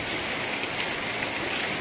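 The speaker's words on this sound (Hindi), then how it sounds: "कंटिन्यू दो तीन दिन से यहाँ पर बरसात चली रही है" Steady rain pours onto a house rooftop during a wet May spell, a dense even hiss of drops that stays loud and unbroken throughout, with no voices.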